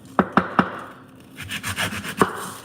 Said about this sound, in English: Let's go on and cut up this onion.